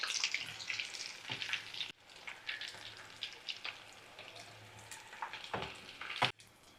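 Chicken 65 pieces frying in oil in a pan, a faint, steady sizzle with scattered crackles and pops, and a few sharper clatters of a utensil near the end.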